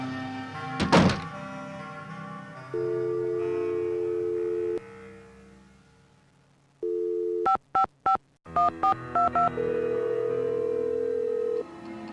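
Telephone sounds from the Nancy Drew: The Final Scene game: a thunk as the receiver is picked up, a steady dial tone, a series of short dialed tones, then a ringing tone, with no speech.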